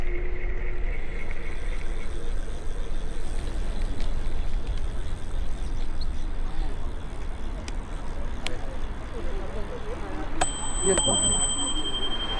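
A bell on a Jetson scooter rings a few short times during a ride in Central Park, bright dings over a constant rush of wind and road noise.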